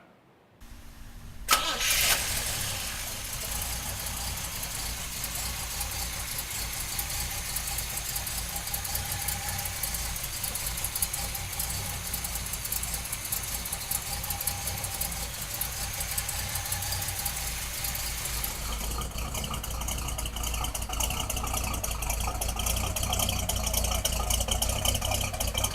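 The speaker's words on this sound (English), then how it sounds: "let's fire this big block up" A 1968 Chevrolet Chevelle SS big block V8 cranks and catches after a brief silence, then settles into a steady, loud, rumbling idle that continues close up and alone, growing slightly rougher toward the end.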